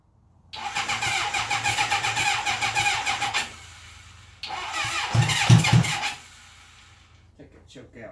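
Cold 1980 Honda CB750F motorcycle engine cranking with pulsing starter strokes, then catching and running roughly with uneven revs before cutting out, close and loud.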